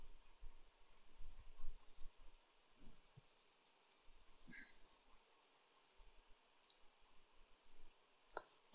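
Sparse, light computer mouse clicks while modelling a piston in Siemens NX CAD software, faint and close, spread irregularly over a quiet background.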